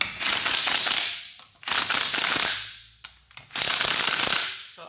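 A torque stick on an impact wrench tightens the lug nuts on a Toyota Hiace front wheel, three loud bursts of rapid ratcheting hammering separated by short pauses, close and without talk.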